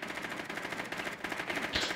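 Rapid automatic gunfire rattles continuously through an online shooter match, a dense stream of close, loud shots with a heavier burst near the end.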